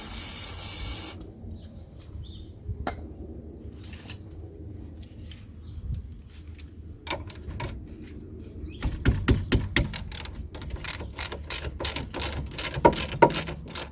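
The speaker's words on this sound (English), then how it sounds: "We're using a 17mm socket to undo these two nuts" A socket ratchet with a 17mm socket clicks rapidly in bursts as nuts on a Land Rover Freelander rear anti-roll bar drop link are worked loose, close up, with mechanical clatter and brief spray-like hiss early on.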